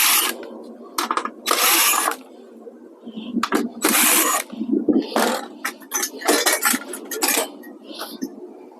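Short bursts of a power tool driving out screws while a flat screen TV is dismantled, interspersed with metallic clinks and clatter of parts, close and intermittent.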